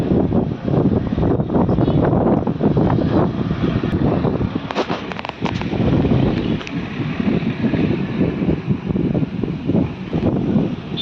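Strong wind gusts buffet the microphone outdoors over open farm fields near a bypass road, in a continuous, loud rush with rising and falling blasts.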